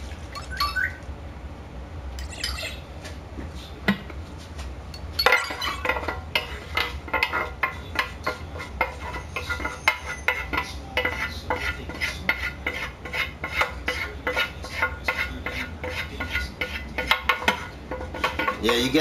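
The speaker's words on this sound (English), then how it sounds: "the frozen broccoli is going to shock the hot sauce" Frozen broccoli stirred into hot sauce in a pan while cooking beef and broccoli, with steady scraping, clinking utensil strokes against the pan, close and continuous, alongside a constant background hum.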